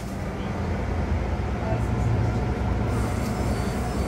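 Irisbus Citelis city bus in Ljubljana, a steady low engine rumble and road drone heard from inside the vehicle, continuous and fairly loud, with someone talking over it.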